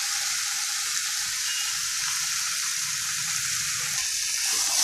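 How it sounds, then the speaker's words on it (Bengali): Ghee is stirred into banana flower curry in a hot pan, making a steady, bright sizzle and frying hiss that continues evenly throughout, with faint stirring underneath. "এবার আমি দিয়ে দেবো এর মধ্যে"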